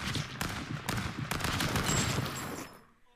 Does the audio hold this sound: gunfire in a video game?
yes